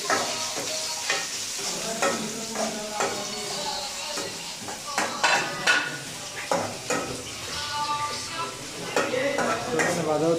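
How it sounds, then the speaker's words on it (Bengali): Onions frying with ginger, garlic paste and chicken masala in a pan: a continuous close sizzle with frequent scraping, clattering stirs of a utensil against the metal, loud and uneven in rhythm, no talk. "এখানে ভাজা হচ্ছে"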